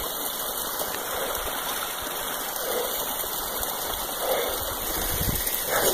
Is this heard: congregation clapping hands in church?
no